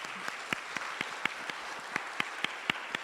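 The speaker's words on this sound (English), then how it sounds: "a round of applause." An audience claps at the closing session of a film symposium, a steady quiet wash of applause punctuated by sharp, evenly spaced individual claps, with no talk over it.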